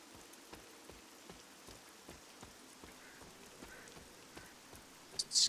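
Soft rain ambience in the video game Marvel's Midnight Suns, a faint steady patter with regular light droplet ticks and no talking.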